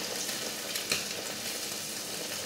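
Hilsa fish tail pieces frying in hot oil, giving a steady, dense, close sizzle with a few small pops; no talking.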